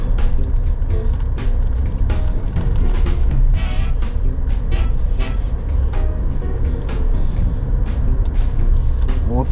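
Suzuki Jimny JB64W engine in second gear on a winding mountain road, a continuous close drone with road and wind noise and brief shifts in pitch, loud throughout.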